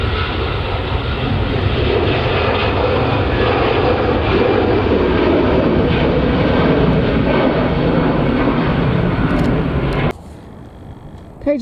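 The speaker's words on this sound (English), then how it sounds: "just coming into land now is an Airbus A320-200 Vueling arriving from Barcelona" Airbus A320-200 jet airliner at Manchester Airport passing on its landing approach, a loud continuous engine roar and rumble that holds steady, then cuts off abruptly near the end.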